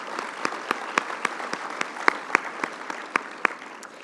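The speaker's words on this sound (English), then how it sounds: "that's a round of applause" Scattered audience applause at the Irving State of the City 2017 event: a sparse patter of a few people clapping, individual sharp claps standing out irregularly over a soft background for about four seconds.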